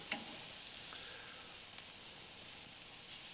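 Teriyaki-marinated country style ribs laid on the hot side of a grill, giving a steady, faint, continuous sizzle throughout with no talking.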